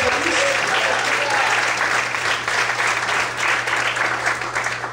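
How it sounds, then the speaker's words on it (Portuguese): A church congregation applauds throughout, a full, continuous clapping that holds steady for the whole stretch, with a low hum beneath. "Você pode aplaudir a Senhor."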